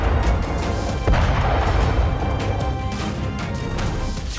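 Ukrainian howitzer artillery fires at a distance. Heavy booms and cracks sit over a loud, rough rumble, with one sharp blast standing out near the start, and no one speaks.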